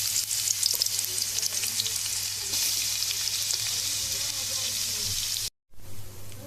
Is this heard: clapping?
no